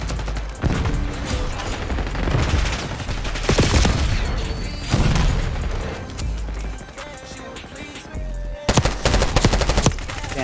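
Rapid automatic gunfire in a Call of Duty Black Ops 6 multiplayer match, repeated loud bursts of shots with brief pauses between them, game background noise underneath.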